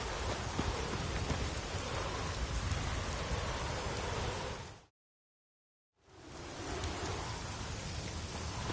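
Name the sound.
rain falling in the video game Witcher 3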